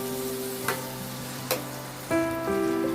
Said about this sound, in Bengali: আর এখানে একটা গোটা ক্যাপসিকাম দিয়ে দিলাম, দিয়ে ভালো করে একটু নাড়াচাড়া করব।